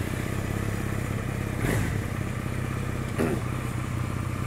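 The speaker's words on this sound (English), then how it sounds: "That's a mean sounding motorcycle." A fuel-injected Johnny Pag motorcycle engine runs close by with a rough, steady idle, broken by two short throttle blips.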